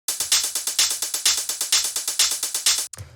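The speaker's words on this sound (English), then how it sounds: "So what's going on here is we have this 909 hi-hat" A Roland 909-style hi-hat pattern from a techno track ticks out in a rapid, even sixteenth-note groove with accented open hats and a soft low thump under each beat, loud and close, ending abruptly with a brief trailing hit.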